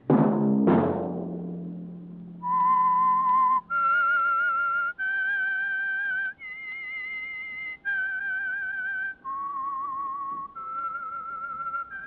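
A plucked note rings out, then a lone whistler performs a slow, eerie melody of sustained, wavering tones in a quiet setting.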